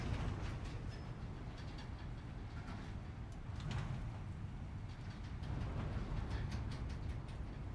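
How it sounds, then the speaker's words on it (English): A train in Death Stranding 2 rolls along with a continuous low rumble, faint rhythmic clatter and a quiet airy wash, steady and fairly distant throughout. "Look at this glorious train."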